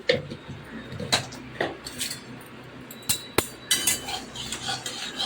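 Stirring banana flower mash with whole cumin seeds in a wok in a home kitchen: quiet, irregular clinks and scrapes of a utensil against the pan, with brief sharper knocks and no voices.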